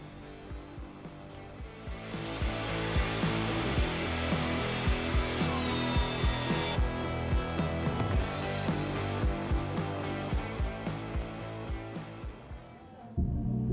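A planer with a helical cutterhead feeds a wood board through, giving a loud, continuous machine roar with a busy cutting texture that holds steady for over ten seconds, then cuts off abruptly near the end.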